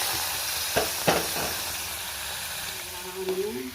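Coconut cooking down in a pan until its oil separates gives a soft, steady sizzle and hiss, with a couple of sharp stirring clicks early and a faint whistling tone near the end.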